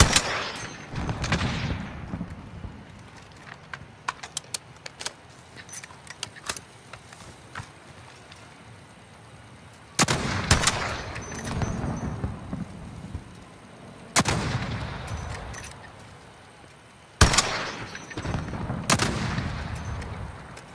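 Explosive sniper rounds fire in Call of Duty: Warzone, four heavy, sharp booms spaced several seconds apart, each followed by a rumbling decay, with fainter scattered shots and clatter between them.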